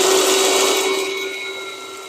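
An electric grinder runs steadily, grinding fenugreek seeds and dried hibiscus into a fine powder, its whirring motor holding a constant hum that slowly fades a little.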